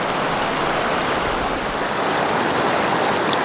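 A mountain river rushes in a steady, dense wash of water noise, loud and close, running continuously without pause and with no voices over it.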